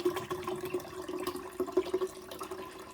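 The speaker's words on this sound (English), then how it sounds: "So now you're going to pour your water in here." Water poured from a container into the reservoir of a Keurig coffee maker being descaled makes a faint, uneven trickle and gurgle with a hollow, ringing resonance, heard alone without talking.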